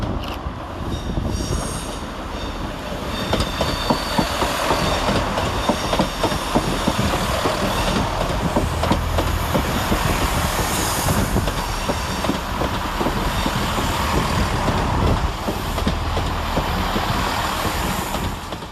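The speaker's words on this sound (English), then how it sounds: "Arriving to terminate with a Chiltern Railway service off Oxford is 165032 and 165001." Two coupled Chiltern Railways Class 165 diesel units, 165032 and 165001, pull into London Marylebone at the end of a run from Oxford, with a steady loud engine rumble, rhythmic wheel clatter and occasional high brake squeal.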